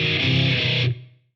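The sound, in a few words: Riff on Line 6 Helix with minor-third harmony switch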